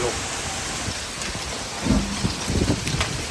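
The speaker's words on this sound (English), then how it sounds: "just when you think it couldn't get any worse, there's hail" Rain and hail pelt down in a storm, a dense steady hiss and patter with scattered harder hits, loud and continuous with no talk.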